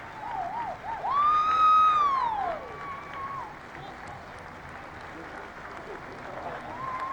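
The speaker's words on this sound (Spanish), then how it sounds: "si bien le están aplaudiendo mucho a don Oscar" Applause from a crowd at a Costa Rican presidential handover ceremony greets Oscar Arias Sánchez as he enters, a steady wash of clapping under a commentator's voice, with a whistle-like tone rising and falling early on.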